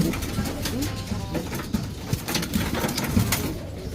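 Pigeons coo in a loft during racing-pigeon training, soft repeated low coos scattered among rustling and flapping, fairly near, with no voices during the cooing.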